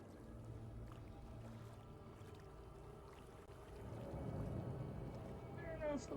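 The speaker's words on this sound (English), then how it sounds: "I don't know if the water noise was real" Water ambience in the horror video game Alan Wake 2, a steady low rushing wash that swells louder about two-thirds through, continuous and slightly distant.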